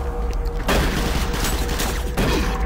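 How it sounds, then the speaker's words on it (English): Gunfire in the Doom 3 video game: loud, dense bursts of shooting that fill the short span, with heavy low-end rumble under rapid shots. "the guy was just shooting the other guy"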